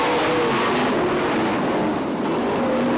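A pack of 410 sprint cars roaring around the dirt oval at Fremont Speedway, a continuous loud, dense engine howl from several cars at once with shifting pitch as they accelerate, no talk heard.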